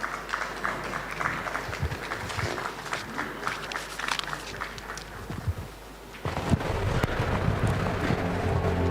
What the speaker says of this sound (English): Give him a huge round of applause as he comes on stage.